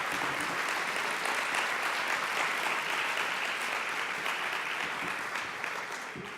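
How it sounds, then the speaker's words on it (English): A conference audience applauds in a dense, sustained wash of clapping that holds steady before tapering slightly at the end. "Please join me in giving our Cradle to Career partners a round of applause."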